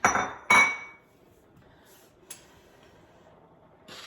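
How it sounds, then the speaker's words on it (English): A bowl is lifted down and set onto a kitchen counter while breakfast oatmeal is being made, producing two sharp ceramic clinks in quick succession, then a quieter tap and a final light clatter against a near-silent kitchen. "Get a bowl down."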